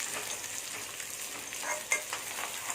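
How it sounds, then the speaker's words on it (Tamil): Shallots and dried chillies sizzle in hot oil in a pan, a soft, steady crackle with light stirring scrapes and one brief clink, fairly faint and alone. "இதை போட்டு நல்லா வதக்கிடணும்"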